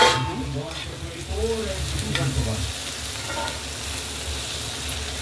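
Okra fry with roasted peanuts being stirred in a hot pan, a loud continuous sizzle with scraping, tossing strokes close by, and a faint voice murmuring briefly in the background early on.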